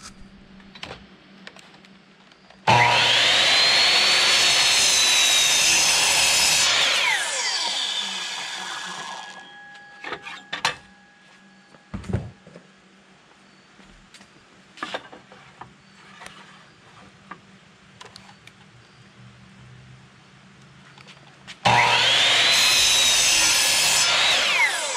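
A power saw cuts wood to size in two loud bursts, one at the start and one near the end, with quieter knocks, handling clatter and brief faint tones in the pause between cuts.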